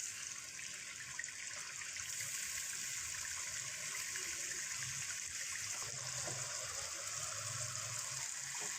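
Water poured into a pan of cooking chicken kofta masala, a steady close rushing and trickling stream that holds evenly for several seconds with no voices.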